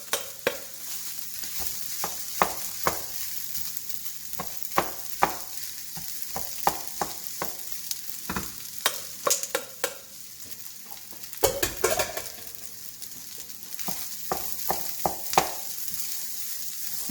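Rice, beef and vegetables sizzle steadily in a pot while being stirred, with repeated scraping clicks of a utensil over a constant frying hiss, close and moderately loud.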